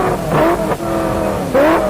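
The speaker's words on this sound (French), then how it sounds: "Lorraine, vous voyez là au bout de cette ligne droite, je suis à peu près à 280 à l'heure" A Ferrari F40LM IMSA race car screams along a circuit straight at around 280 km/h, its engine loud and close with pitch shifts between gears.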